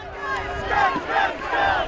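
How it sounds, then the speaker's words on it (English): Crowd of several hundred people booing as Margaret Thatcher's coffin passes during her funeral, a sustained swelling jeer of many voices outdoors. "several hundred people booing and turning their backs as her coffin passed by"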